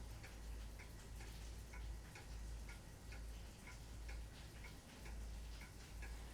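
A clock ticks in the video game Spirit Hunter: NG, with steady, evenly spaced ticks running throughout over a soft background hum and no talking.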